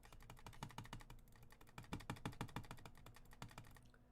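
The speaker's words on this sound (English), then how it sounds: "Aggressive mouse clicking." Rapid, aggressive clicking of a computer mouse during a video game, a dense run of sharp, close taps in quick bursts, with no talking.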